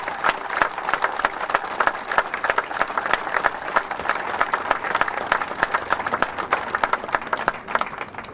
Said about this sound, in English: Please join me once again in a round of applause